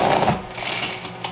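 A Tupperware Mini Chef grinding sprouted wheat, a short burst of gritty whirring and crunching, close and moderately loud.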